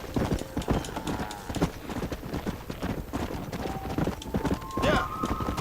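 Horse hooves gallop in the video game Red Dead Redemption: a fast, even clip-clop rhythm close by that runs throughout, with faint talking underneath and a brief high tone near the end.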